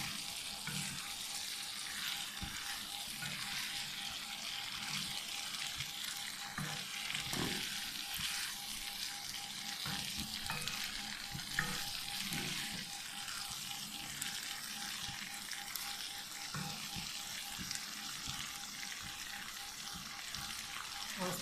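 Chicken jalfrezi sizzling steadily in a pan as it is gently stirred, a continuous dense hiss with occasional soft scrapes of the spoon, fairly quiet and without talk.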